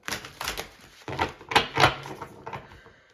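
Quick, crisp riffling and flapping bursts of tarot cards being shuffled in several short runs, close by with no talking.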